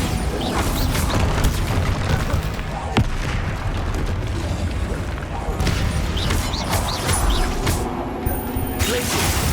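Blasting-spell explosions in Hogwarts Legacy, a few sharp booming impacts scattered through a busy, noisy combat scene, with one crisp blast standing out loud and close amid rumbling debris.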